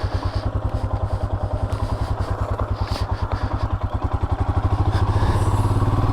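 A Royal Enfield Himalayan motorcycle fitted with a booster and AIS mod, riding slowly over a rough, rocky road, its single-cylinder engine thumping in a steady close rhythm with rattles and clatter from the bumpy surface.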